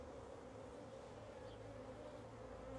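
Honeybees hum around a brood frame during hive work, a faint, steady low drone of many insects that runs unbroken throughout, heard on its own with no talk.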